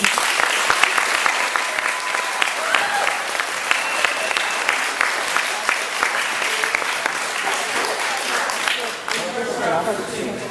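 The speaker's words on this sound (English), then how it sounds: "So please give them a round of applause." A crowd at an 8th grade graduation ceremony breaks into sustained applause, with many hands clapping densely and loudly for about ten seconds, mixed with voices, easing slightly near the end.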